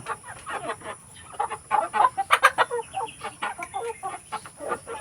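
Chickens and roosters on a livestock farm cluck and squawk nearly nonstop in a busy, close chorus of overlapping calls, with no voices heard.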